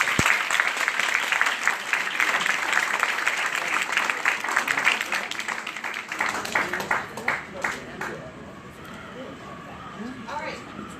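An audience applauds at a Houston census event: dense clapping fills the room for about six seconds, then thins to scattered claps and fades as a voice begins speaking at the end.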